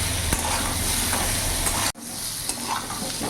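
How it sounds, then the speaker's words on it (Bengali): Boiled taro pieces frying in a pan over a full gas flame give a loud, continuous close-up sizzle with occasional stirring clicks, one short break near the middle. "ফুল আছে, কচুটা ভাজা ভাজা করে নেব"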